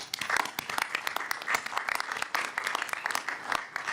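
An audience at a school board meeting applauds, steady dense clapping from many hands that holds at an even moderate level the whole time.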